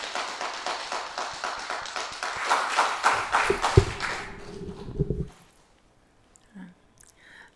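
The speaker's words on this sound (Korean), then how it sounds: "우리 다 같이 큰 박수로 환영해 주시면 감사하겠습니다." An audience at a Wednesday church gathering claps in welcome, a crowd of hands patting in a quick uneven patter that swells, then stops abruptly near the end, leaving near silence with faint stray noises.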